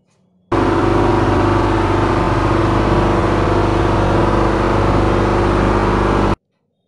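An industrial air blower runs steadily at its discharge line at 1 bar gauge pressure, where a 24-inch rubber bellow is fitted; a loud, constant mechanical roar with a low hum holds evenly for about six seconds, then cuts off.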